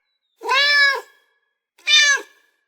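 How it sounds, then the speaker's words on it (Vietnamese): A cat meows twice, clear and close, with two drawn-out tonal calls separated by a short silence. "Cat."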